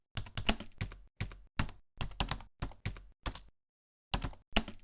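Typing on a computer keyboard while adding text to a file on a Linux system: close, quick bursts of key clicks in short separated runs, with a pause near the end before a final flurry, no voices.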